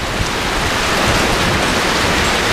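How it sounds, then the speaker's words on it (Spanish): Heavy rain mixed with hail pours down during a strong storm in Mexico City, a loud, dense, continuous hiss and patter with no letup and no voices. "Vean el granizo. El granizo tan fuerte que está presentando."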